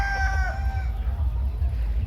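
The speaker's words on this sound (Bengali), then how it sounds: "দেখুন এই যে টাইগার মোরগ, মাশাআল্লাহ অনেক সুন্দর" A tiger rooster crows briefly and loudly nearby with a falling cry, then the crow cuts off into a low rumbling outdoor backdrop in a village yard.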